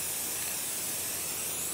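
A steady, close hiss of an aerosol spray can releasing gold paint in one continuous burst.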